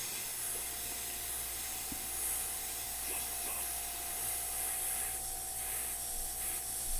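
An airbrush sprays paint over a template with a steady, continuous airy hiss that runs unbroken from start to finish at a moderate, close level.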